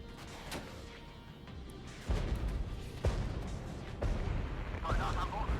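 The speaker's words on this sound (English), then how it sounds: "I'm going to drop some artillery on Yaoundé, so that we can get some fire coming in and start to suppress them" Artillery rounds land during a barrage in the Regiments war game, several heavy booms spaced about a second apart over a rumbling battlefield background, with a voice talking throughout.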